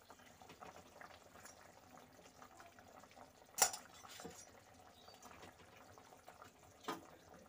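Fish curry broth boils in a pot, a faint, steady bubbling simmer broken by a sharp clink of a utensil and a couple of softer knocks.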